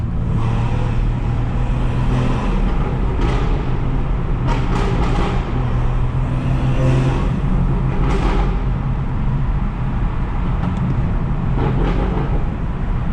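Tuned 500 hp Stage 2 BMW 440i in sport mode driving through the FDR tunnels in New York with back windows open, a loud steady engine drone and road roar echoing continuously, with brief bursts of exhaust crackle.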